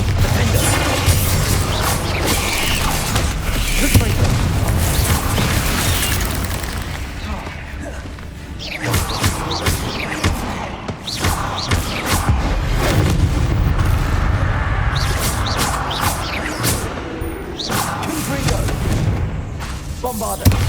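Bombarda spell blasts in the Hogwarts Legacy video game go off as a series of heavy booms and crashing impacts over about twenty seconds, dense and loud, with a player talking at times.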